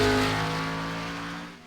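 A Gen 4 NASCAR race car engine in iRacing at Richmond drones loud and close with a deep, bassy steady tone, then eases off slightly as the clip ends.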